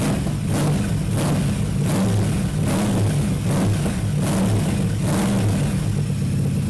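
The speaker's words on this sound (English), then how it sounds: "we'll give it a few revs now" A loud, close Aprilia RS660 motorcycle engine with an Arrow exhaust revs repeatedly, its throaty roar rising and falling in regular bursts.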